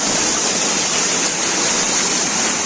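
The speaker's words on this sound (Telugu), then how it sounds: "సో ఇప్పుడు నీళ్ళు అనేవి చూడండి, ఇక్కడ నుంచి నీళ్ళు అనేవి ఎలా పారితే వెళ్తున్నాయో" Water pours down the waterfall at Sri Amara Lingeshwara Swamy Kona near Tirupati, a loud, steady hiss and roar of falling water that continues unbroken throughout.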